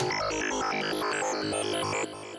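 A bright, buzzy synthesizer lead plays a quick run of notes over a busy electronic backing, loud and dense throughout.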